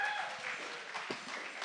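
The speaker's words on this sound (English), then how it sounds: "Can I get a massive applause for our guests tonight for giving up their time?" Audience applause for guests at a tech conference session, a steady soft patter of clapping throughout, fairly faint and distant, with no clear talk over it.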